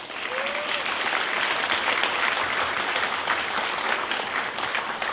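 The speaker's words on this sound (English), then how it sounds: "Give yourself a massive round of applause." Audience applause fills a theatre at a youth showcase, a steady dense wash of many hands clapping at full volume throughout, with no talk over it.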